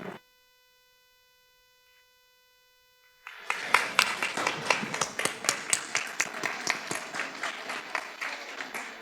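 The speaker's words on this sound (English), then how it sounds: "So, can you please applaud him before he comes on?" Audience applause at a Duchess Club Rajasthan Day celebration breaks out after a few seconds of near-silence with a faint steady hum, then continues as brisk, sustained clapping.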